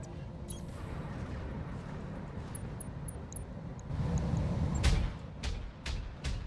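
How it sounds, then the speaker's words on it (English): Autocannon fire in the BattleTech game arrives as a few sharp, loud bursts near the end, over a steady mechanical rumble and engine drone. "Have some auto cannon fire"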